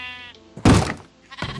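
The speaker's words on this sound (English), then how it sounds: "Step back, sheep." A sheep in a video game bleats with a wavering, harmonic call at the start, followed by a loud thudding burst and a second shorter sound near the end, all close and with no talk.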